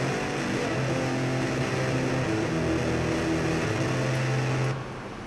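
A recorded guitar sample run through a distortion effect, a dense buzzing, gritty sustained tone at steady loudness that cuts off near the end.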